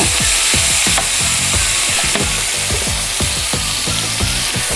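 Stir-fried pork belly with fermented tofu sizzles steadily in a pan after water is added, with a continuous loud hiss broken by regular scraping and stirring strokes of a utensil and no voices.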